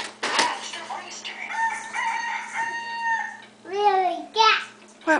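A toy rooster gives a tinny recorded crow with a clucking tail, while a young child babbles close by.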